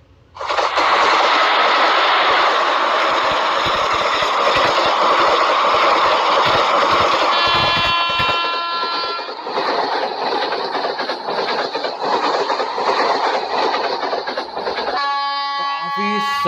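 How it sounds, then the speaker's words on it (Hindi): A train in the Indian Train Crossing Simulator game rumbles past a level crossing, a loud steady roar with clattering for most of the stretch. Sustained tonal horn-like notes enter near the end. "ट्रेन आ रही है तो सुन लो थोड़ा सा ट्रेन का वॉइस।"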